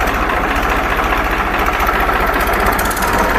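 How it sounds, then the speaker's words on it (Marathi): A tractor engine idles loudly and close during a brake test after repair work, a steady low throbbing rumble with a slight knocking vibration and no speech. "चला ट्रॅक्टरचे ट्रायल घेऊन बघू आता ब्रेकचं"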